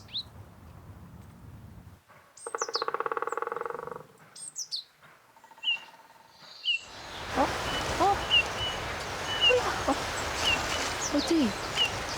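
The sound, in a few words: birds singing in a forest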